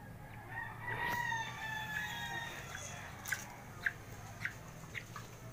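A Serama bantam rooster gives a drawn-out crow, followed by several short sharp clucks from the nearby bantam chickens, close with a quiet background.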